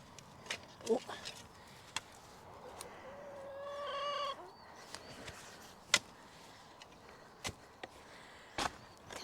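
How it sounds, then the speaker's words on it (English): Chickens cluck softly in a garden while someone digs, with scattered sharp knocks and a brief voiced sound amid low background noise. "Chickens."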